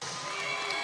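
A home crowd roars at a Hawaii men's college volleyball match against Ohio State, a broad, steady wall of cheering voices in a large arena, distant and fairly faint, held without a break.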